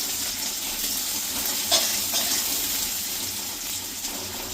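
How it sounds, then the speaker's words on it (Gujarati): Onions sizzling gently in a pan over a low flame, a soft continuous hiss with a brief splashy burst as they go in, then light scraping. "ગેસ ધીમો કરી કાંદા નાખી દઈશું."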